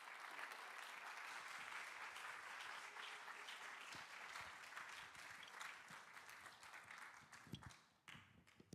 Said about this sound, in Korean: 여러분 목사님 등단하실 때 여러분 큰 박수로 우리 축복하고 환영하도록 하겠습니다